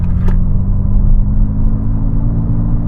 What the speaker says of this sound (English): You put in boost mode, and this is the pickup from 40 to 70.